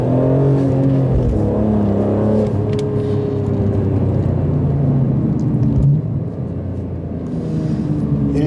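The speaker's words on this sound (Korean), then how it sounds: "일단 지금은 테스트 주행을 진행하고 있습니다" A BMW M3 E46 on a test drive makes a steady engine drone with rising and falling revs and tire rumble, heard from inside the cabin with no one talking.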